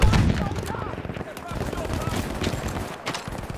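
Gunfire in a Battlefield 5 match sounds as quick bursts of shots with a heavy boom at the start, mixed with battle noise, while a player talks over it.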